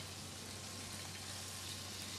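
Prawns fry in a pan for a cheese prawn yi mein dish, giving a faint, steady sizzle and crackle with no talking.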